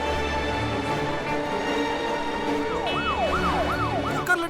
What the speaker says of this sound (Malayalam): ഇത്രയധികം പോലീസ് വണ്ടി എങ്ങോട്ടാണ് ഈ പോകുന്നത്?